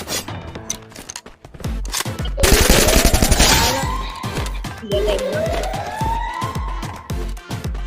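Rapid bursts of gunfire in the battle royale game Free Fire crackle in dense, repeated volleys alongside a rising and falling wail, with a voice speaking over parts of the action.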